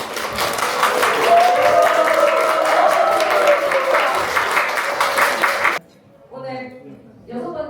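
Applause from a Korean audience at a book launch concert, loud and sustained clapping that fills most of the clip before cutting off abruptly, after which a voice speaks over a quieter background.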